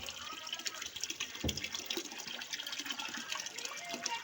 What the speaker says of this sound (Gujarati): પાણી ચાલુ થઈ ગયું છે, ટાંકી આવી છે ભરાવા આગળ.